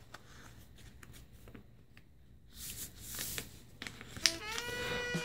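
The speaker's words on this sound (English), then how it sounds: "I'll fold down, and I use this edge as my reference to fold." Sheet of paper being folded into a paper airplane: soft crinkling, sliding and creasing rustles, quiet at first and then a few louder crisp scrapes and presses near the end.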